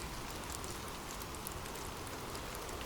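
Steady rain falls evenly and continuously, a dense hiss of drops on surfaces at moderate, unchanging loudness with no voices.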